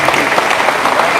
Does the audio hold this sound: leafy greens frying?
no